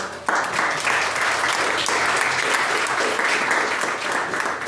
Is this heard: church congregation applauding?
yes